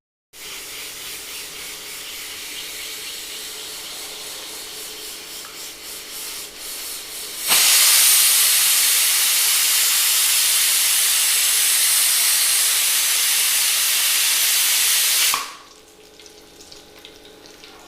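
A pressure cooker holding chicken hisses steadily, then its whistle releases a loud, sustained rush of steam lasting several seconds before it cuts off abruptly, leaving quieter kitchen noise.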